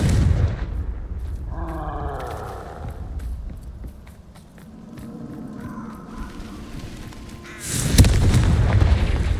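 Confringo blasting spells in Hogwarts Legacy: a loud blast opens, quieter crackling and magical whooshes follow, then a second heavy, booming explosion bursts near the end, with no voices.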